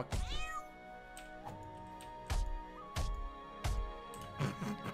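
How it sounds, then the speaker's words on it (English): Cat meowing in the video game South Park: The Stick of Truth, a series of loud, close meows with rising and falling pitch spaced every second or so over a steady musical background. "It was a cat."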